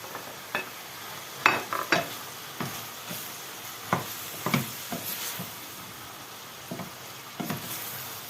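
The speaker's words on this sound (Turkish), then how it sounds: "Gördüğünüz gibi çok güzel kavruluyor." Chunks of meat and two green peppers sizzle and crackle as they fry in a pan, with a continuous hiss broken by scraping stirs and soft clinks at close range, no talking.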